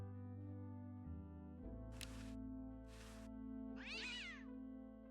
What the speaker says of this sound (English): Need something to get that cat away.